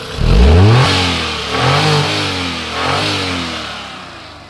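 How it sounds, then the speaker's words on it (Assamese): A used Hyundai Eon D-Lite car engine revs up three times in quick succession, each rise swelling and then settling back toward a steady idle. It is loud and close, with no voices. "গাড়ী কি ধুনীয়াকৈ ষ্টাৰ্ট লৈছে।"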